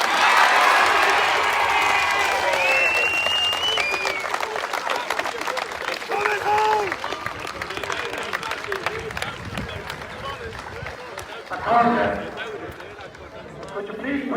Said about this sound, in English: I'm going to hand you over now with a big round of applause to the winning captain